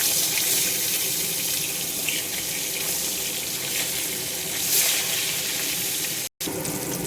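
Pieces of patla fish fry in a pan with a steady, dense sizzle that holds close and even throughout, cut by a brief dropout near the end, with no talking.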